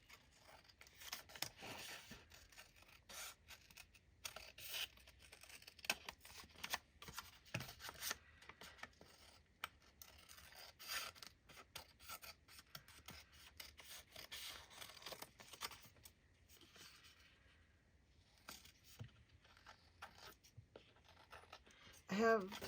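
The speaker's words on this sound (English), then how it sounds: "I'm just going to go ahead and cut around it." Scissors snip around a paper belly band for a junk journal, giving close, irregular cuts and paper rustles over about twenty seconds with soft crinkles between them.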